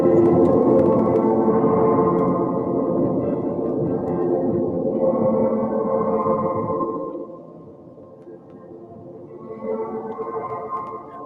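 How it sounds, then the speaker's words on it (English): A deep, droning, warbling tone swells and wavers slowly with eerie echoing textures, dipping quieter near the end before rising again; no voices. "our experiments have taught us what time traveling sounds like."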